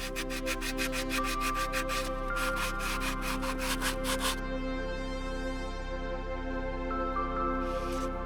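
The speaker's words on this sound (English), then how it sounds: "I'm just going to get a bit of sandpaper and just go around the edge of that." Sandpaper rubbed around the edge of an ABS reluctor ring on a Mercedes SL R230 hub, rapid rhythmic scratching strokes in bursts then fading, close over a steady background hum.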